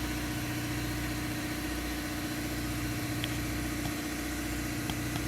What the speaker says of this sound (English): Don't mind the compressor running in the background